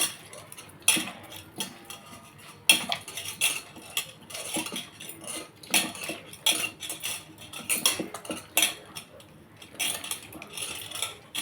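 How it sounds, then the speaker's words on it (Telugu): Eggplant and green chilies being mashed by hand in a metal pot, heard as irregular clinks, scrapes and knocks against the metal, close and fairly loud, with no talk. "పచ్చిమిరకాయలు వంకాయ మొత్తం వంకాయని మొత్తం పిసికేసుకోవాలండి ఇలా"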